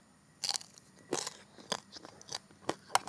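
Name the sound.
biting into crispy roasted skin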